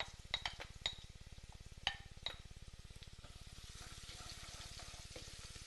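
Crushed ginger and garlic sizzle and fry with onions in a pan, a steady close crackle broken by a few sharp clinks of a spoon against the metal early on, with the frying continuing alone throughout.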